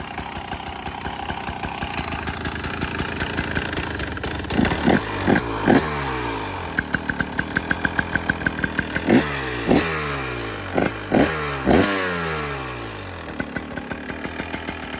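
A 2025 KTM 300 XC-W hard enduro two-stroke idles close by with a loud rattling clutch, broken by several sharp blips of the throttle that rise and fall in quick bursts.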